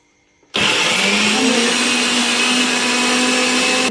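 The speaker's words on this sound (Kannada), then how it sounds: "ಇದಕ್ಕೆ ಶುಂಠಿ, ಚಕ್ಕೆ, ಲವಂಗ, ಈರುಳ್ಳಿ, ಕೊತ್ತಂಬರಿ ಸೊಪ್ಪು ಹಾಕಿ ಮಿಕ್ಸಿ ಮಾಡ್ತಾ ಇದ್ದೀನಿ" An electric mixer grinder whirs loudly at close range after a brief quiet start, grinding a masala of ginger, cinnamon, cloves, onion and coriander leaves in one steady, unbroken roar.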